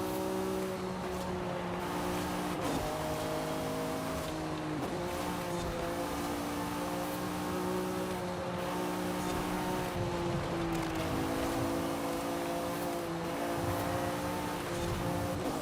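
Race cars in the Forza Horizon 5 video game, including an NSX, with engines droning and revving steadily, gear shifts dropping the pitch, and occasional tire squeal, continuous and fairly loud.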